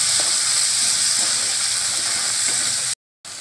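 Finely chopped tomatoes fry in a pan, a loud, steady hiss with a few faint stirring knocks, cutting out abruptly near the end before resuming.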